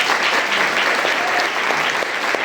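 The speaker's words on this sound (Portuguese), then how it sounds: "Quero uma salva de palmas bem forte pela vida de todos os que levaram presentes" Church congregation applauding at a communion service, steady dense clapping throughout, loud and continuous with no voices rising above it.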